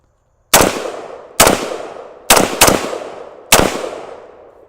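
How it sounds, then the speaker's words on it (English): Five sharp rifle shots ring out from a VZ 58 fed by a Fab Defense magazine and firing hollow-point rounds, loud and close at uneven intervals, each crack trailing off in a long echo. "So let's rack a round in and take a couple shots here, see how it does."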